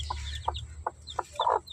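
Free-range chickens, including Rhode Island Reds, cluck softly several times at close range, short separate calls with a slightly louder, busier burst near the end.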